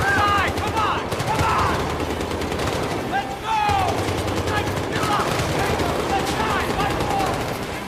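Sustained automatic and rifle fire from a squad in the video game Battlefield 3, dense bursts rattling continuously through a parking-lot ambush with shouted voices mixed in.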